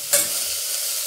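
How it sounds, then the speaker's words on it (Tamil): Tomatoes dropped into a pan of frying shallots and capsicum, giving one sharp hiss that settles into a steady, loud sizzle close up, with no voices. "இப்போ தக்காளி போட்டுடலாம்."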